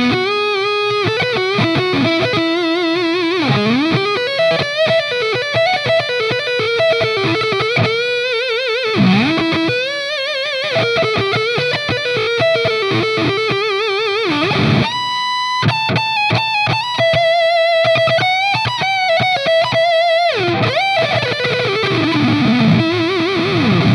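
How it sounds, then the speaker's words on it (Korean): Cort KX500 electric guitar with ash burl top and Fishman pickups, played on the neck pickup with heavy gain and the tone rolled back: a loud, continuous distorted solo line of bends, vibrato and fast runs, alone without talk. "이런 식으로 이제 넥 픽업 가지고 엄청 멋있는 솔로 톤을 낼 수가 있어요"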